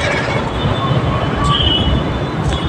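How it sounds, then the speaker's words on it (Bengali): A loud, steady rumble of a Delhi Metro train running nearby at Hazrat Nizamuddin, with brief high metallic squeals from the wheels. "এই দেখো এর নিচেই মেট্রো স্টেশন"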